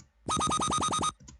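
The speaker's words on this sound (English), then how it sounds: "It's a little laser thing." An NI Massive synthesizer laser effect fires as a fast rapid-fire string of bright, buzzy zaps lasting under a second, alone and fairly loud.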